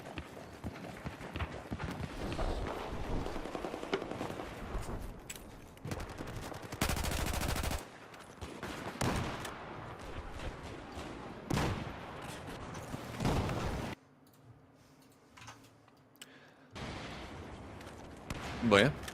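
Gunfire and explosions from a Battlefield match, dense bursts of shots and impacts running under continuous commentary, with a loud sustained blast midway and a quieter stretch near the end.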